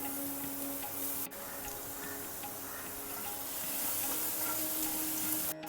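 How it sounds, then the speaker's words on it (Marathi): Cumin seeds, asafoetida powder and garlic crackle and sizzle in hot oil for a dal fry tadka, a steady close frying hiss with faint ticking pops and no talk. "आपलं तेल छान गरम झाल्यावर जिरं घालायचं हिंग पावडर"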